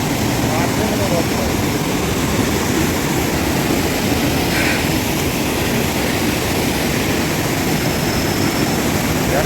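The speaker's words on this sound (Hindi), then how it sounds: "और ये रहा दरिया, और दरिया के ऊपर है वाटरफॉल प्यारा सा" A lovely waterfall spills above a river on the Gallu waterfall trek, giving a steady, broadband rush that stays even and close throughout, with a voice talking over it.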